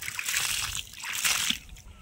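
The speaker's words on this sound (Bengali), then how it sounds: "আর এই ভিতরটা একটু জল দেব।" Water poured into a freshly dug planting hole in garden soil, a steady splashing slosh and gurgle for about two seconds that briefly eases in the middle, heard close up.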